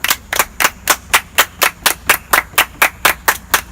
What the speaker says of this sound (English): can I get a little bit of clapping